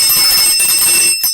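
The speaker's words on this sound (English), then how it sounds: "I got my bell" Bronze bell ringing with a bright, sustained metallic shimmer that fills the whole moment, loud and close, then briefly cuts off.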